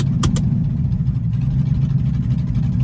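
A car engine with a slipping transmission revs steadily through second and third gear, a continuous close, loud mid-pitched drone with no talk over it.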